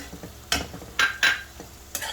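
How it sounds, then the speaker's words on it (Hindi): A spoon scrapes and knocks in a pan as ground peanuts are stirred into methi sabzi, a Maharashtrian fenugreek dish, with several sharp clanks against the pan over a soft sizzle. "और इसे मूंगफलियों को मिक्स कर देंगे इसमें"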